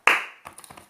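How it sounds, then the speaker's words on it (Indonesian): A sharp, bright clap opens, followed by a quick run of softer claps in a rhythmic Indonesian Scout (Pramuka) clapping pattern, close and clear with no talking. "Kreasi tepuk Pramuka Indonesia."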